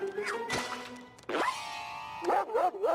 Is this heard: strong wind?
no